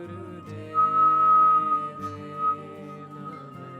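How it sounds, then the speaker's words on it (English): A steady, high whistled tone during a breathing exercise, whistled while inhaling, holds for about a second, then returns briefly, over a sustained layered musical drone. "you can start whistling while we inhale."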